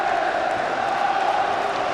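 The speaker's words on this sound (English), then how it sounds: "Great spirited atmosphere at Hampden Park." Football crowd at Hampden Park during a Celtic v Dundee United match, a broad steady roar of cheering fans heard from a distance.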